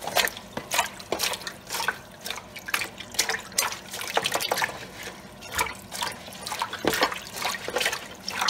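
Vegetables washed under a running kitchen tap: a continuous splashing stream with irregular drips and splatters as the produce is turned in the water, close and fairly loud.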